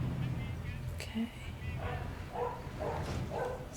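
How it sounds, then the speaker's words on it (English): A dog barks and yips a few times in the background, fairly faint, beneath a steady room noise and a person's nearby talk. "dog's barking there."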